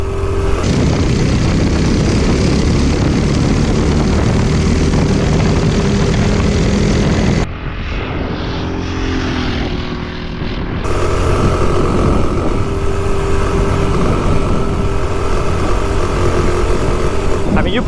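Mini bike with a Kohler CH270 small engine climbing a hill, a loud, steady buzzing engine drone heard up close with wind noise, dipping briefly midway before pulling hard again.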